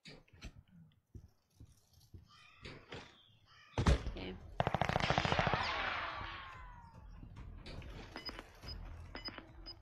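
Gunfire in the video game Warzone, a quick burst of automatic shots in the middle followed by scattered single reports, mixed with game sounds and brief player voices.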